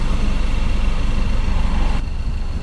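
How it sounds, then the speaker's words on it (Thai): An Isuzu D-Max with a 4JK1 diesel engine, which has a shaking fault, idles close by with a deep, steady throbbing rumble that shifts slightly in tone after about two seconds. "เริ่มแรกเลยเครื่องยนต์สั่นนะครับ"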